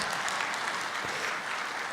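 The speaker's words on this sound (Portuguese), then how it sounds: "Vamos aplaudir pela grande atuação do Yuri" A church congregation applauds a performance during a Sunday service, dense steady clapping close and full throughout the short stretch.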